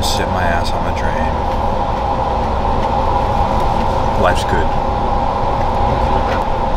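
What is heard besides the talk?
train interior riding noise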